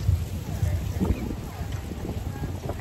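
Gusty outdoor wind buffets the microphone on a street in Salem on Halloween, a steady low rumble with swelling gusts that stays loud throughout.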